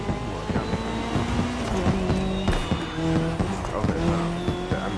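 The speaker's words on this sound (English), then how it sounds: "even though I don't like this car, it sounds good and it's a good car." A race car in The Crew Motorfest revs hard in repeated pulses, its engine note rising and falling with gear changes and tire squeal over a constant noisy background.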